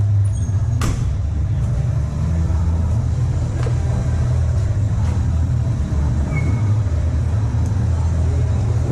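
A truck engine rumbles steadily and close while driving toward a wash in New Zealand, with a few faint clicks and a brief squeak over the low drone.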